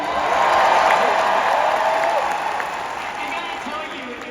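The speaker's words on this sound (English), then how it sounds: "I can imagine it by the sounds of the crowd." A large crowd at the Disney D23 Experiences showcase cheering and applauding, a loud continuous roar of clapping and voices that slowly eases off.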